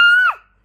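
A voice imitates a fox with one short, bright, sustained high-pitched cry that breaks off after about a third of a second and is followed by silence.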